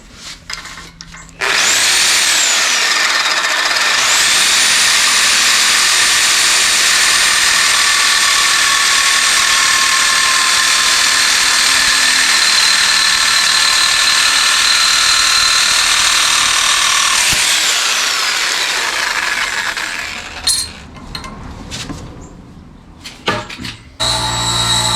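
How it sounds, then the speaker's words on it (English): A reciprocating saw cuts through car seat brackets while fitting Subaru BRZ seats into a 2005-2010 Scion tC, a loud sustained buzzing whine running for about twenty seconds before tapering into scattered clatter. "I'm gonna cut it using a sawzall"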